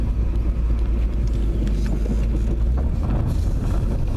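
Steady low road rumble of a car cruising along, with wind buffeting and cabin hum throughout, loud and continuous with no talking.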